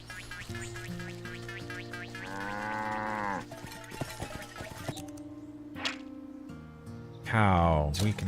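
A cow moos in the video game Wytchwood, several long drawn-out lowing calls spread across the clip, with a sharp whip-like crack and a final loud, deep moo near the end.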